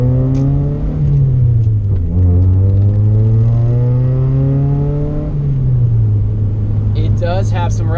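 A 3rd generation Honda Prelude drives along with a loud, steady engine drone inside the cabin. The pitch rises and falls smoothly as it accelerates and shifts, over constant road rumble.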